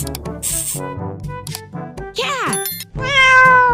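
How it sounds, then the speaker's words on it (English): A domestic cat meows loudly and close by, with several distinct drawn-out calls in a row, including a rising and falling cry and a final strong meow. "Cat."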